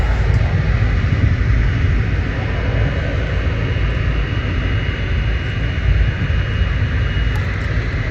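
Etihad Boeing 777 airliner at Manchester Airport, a loud, steady broadband jet roar and rumble that holds constant throughout with no pauses.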